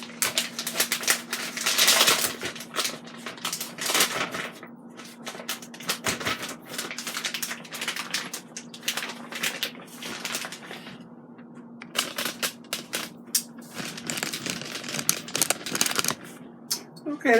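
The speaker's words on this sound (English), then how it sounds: "watching me vacuum seal my meats" Aicok vacuum sealer working on meat in vacuum seal bags, a steady pump hum under bursts of crackling, rustling plastic, with people talking nearby.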